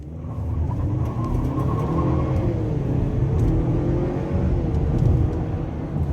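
A 2021 GMC Acadia with the 2.0-litre turbo engine and traction control off accelerates hard with wheel spin, its steady engine drone rising and holding under a broad road rumble, heard from inside the cabin with no talking.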